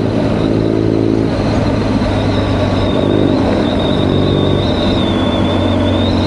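A Harley-Davidson 48 motorcycle engine runs loud and steady nearby, a continuous low rumble with a slight rise in revs partway through, heard alone without talk.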